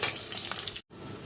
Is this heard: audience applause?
no